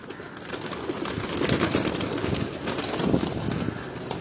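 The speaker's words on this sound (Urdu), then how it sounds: "اس نے کبوتر چھوڑے ہیں" Pigeons on a Lahore rooftop coo and stir, a soft murmur of cooing under a rushing, fluttery layer of wings and breezy outdoor noise, fairly close and steady throughout, with no talk.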